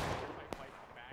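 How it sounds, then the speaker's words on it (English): Scattered musket shots pop at a distance in the Civil War battle game War of Rights, a soft, continuous background of battle with one sharper crack standing out briefly. "Some long distance firing."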